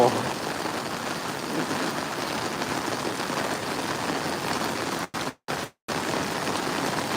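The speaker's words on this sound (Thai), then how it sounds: "ต้องขออภัยด้วยนะครับ เสียงฝนนะครับ" Heavy storm rain pours in a dense, steady hiss close by, interrupted briefly by a few abrupt silent gaps near the end.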